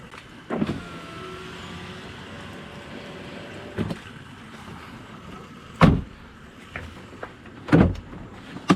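Several distinct mechanical thuds and clunks at irregular intervals as a 2011 Mazda 6 car door with a slightly loose handle is opened and latched, with a faint whirring hum in between.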